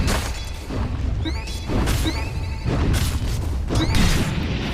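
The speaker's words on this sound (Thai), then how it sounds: "ระเบิดเยอะไปหมดแล้ว" Techies bombs detonate in a Dota 2 match, a string of loud booms and crashes with whooshing effects and spell sounds, several blasts close together and densely layered.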